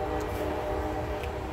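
Halloween decoration toy train sounding steadily and loud, with sustained whistle-like tones over a continuous mechanical rumble, no talking.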